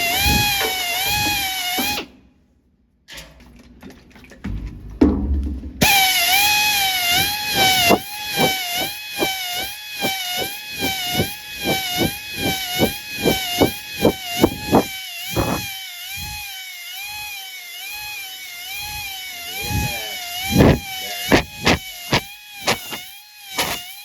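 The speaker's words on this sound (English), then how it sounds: "Deglazing a cylinder." A power tool drives a hone to deglaze a cylinder in a salvaged engine block. The motor whines with a wavering pitch, cuts out briefly, then resumes with rhythmic pulsing grinding strokes.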